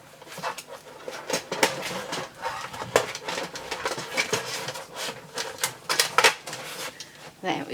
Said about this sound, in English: we do need my trimmer, so let me grab that out